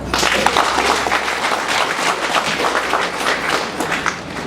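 Crowd applauding at a political rally of Bloc Républicain militants in Tanguiéta, steady dense clapping held throughout at close range with scattered thumps, no speech over it.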